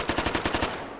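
An SMG firing a rapid burst in the VR shooter game H3VR: about nine sharp, closely spaced shots in quick rhythm, loud and close, with a short fading tail.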